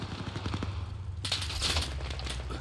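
Machine gun fire in a WWII video game set in Tunisia, North Africa, a dense and continuous rattle of rapid shots close by that swells partway through and carries on without talk.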